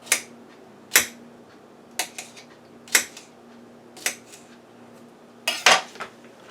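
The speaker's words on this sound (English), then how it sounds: "I'm going to cut it in slices." A knife cuts slices of cucumber on a cutting board while refrigerator pickles are prepared, giving about eight sharp, separate chopping knocks spaced roughly a second apart, close and clear over a low steady hum.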